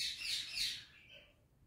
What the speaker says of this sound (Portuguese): Vocês estão escutando meus passarinhos berrar aí, né? É que eu tenho bastante passarinho mesmo.